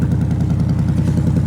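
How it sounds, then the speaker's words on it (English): A 2025 Ford Mustang's active exhaust rumbling at idle, a loud, close, throbbing low burble with a steady pulsing rhythm and no speech. "So that's with the active exhaust down there, so you can do this."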